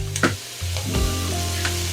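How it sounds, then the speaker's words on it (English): Green peppers and onions, pre-seasoned and oiled, dropped into a hot pan with sausage, burst into a loud, steady sizzle with a clatter of stirring near the start. "The next step is going to add these pre-seasoned and oiled green peppers and onions."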